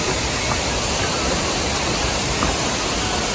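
Curug Maung waterfall roaring as a steady, dense wash of falling water, loud and unbroken throughout, with no voices.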